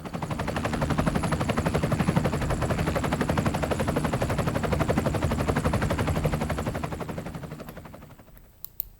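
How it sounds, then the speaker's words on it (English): Helicopter flying, a steady loud rotor drone with rapid chopping pulses that holds for about eight seconds, then fades out near the end. "This is definitely the sound of a helicopter."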